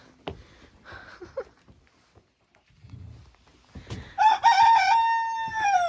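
A rooster crows loudly and close after scattered faint chicken clucks and rustling on a deck, the crow long and drawn out at the end.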